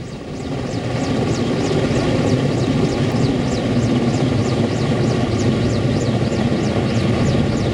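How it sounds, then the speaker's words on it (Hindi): An MI-17 helicopter carrying 5000 litres of water in flight, a loud, steady rotor thump with pulsing blade chop and engine whine, close and continuous. "MI-17 हेलीकॉप्टर ने अपने साथ 5000 लीटर पानी लेकर उड़ान भरी है"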